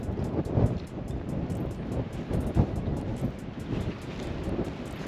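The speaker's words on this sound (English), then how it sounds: "Couldn't be any windier today if it tried." Strong outdoor wind beside a residential community pool and playground in Fishers, Indiana buffets the microphone in steady low rumbling gusts with a few sharper bumps.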